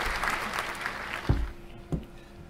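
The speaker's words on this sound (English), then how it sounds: "Let's give him a hand of applause" Scattered applause from a small audience after a crypto interview session, a few seconds of light clapping tapering off, with a couple of louder bumps near the end.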